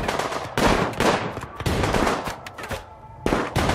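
Rapid bursts of gunfire in the colony game Rimworld, with volleys of shots close and loud in dense, overlapping clusters and brief gaps between them.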